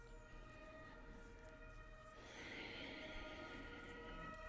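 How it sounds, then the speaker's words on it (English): Distant sirens wail faintly outside, steady tones rising in strength partway through over a low background hum. "There's a lot of sirens outside."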